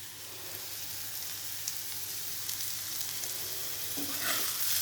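Food frying in a pan, a steady close sizzle and hiss with faint occasional stirring scrapes, growing slightly louder toward the end.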